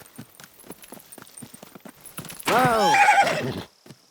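Horse in the medieval game Kingdom Come Deliverance 2: a series of hoof clip-clops under a spoken line, then a loud, close neigh lasting about a second before fading.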